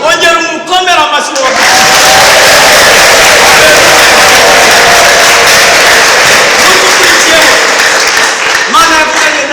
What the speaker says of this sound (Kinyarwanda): Ongera umukomera amashyi